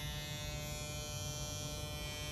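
Steady electric buzzing hum of Gamma+ Ergo cordless hair clippers running continuously, close up and fairly quiet, with no other sounds.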